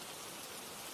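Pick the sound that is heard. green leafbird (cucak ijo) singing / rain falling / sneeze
rain falling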